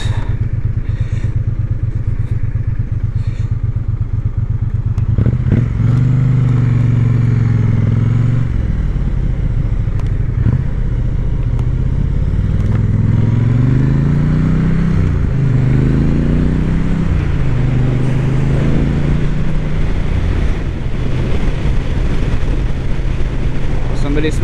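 A Triumph Bonneville T100 motorcycle rides on an open road, its engine droning steadily up close with rising and falling revs as it accelerates and shifts, strong wind rush throughout.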